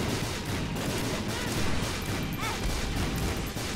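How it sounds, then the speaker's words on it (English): Explosions in the video game The Binding of Isaac: Rebirth keep going without a break, forming a dense, loud roar of crackling blasts that fills the whole stretch with no pauses. "this is just so noisy because of the explosions"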